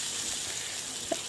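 Curry leaves fry in hot oil with fennel seeds, cinnamon and cloves for an egg curry, giving a steady, hissing sizzle close by with a small pop near the end and no talk.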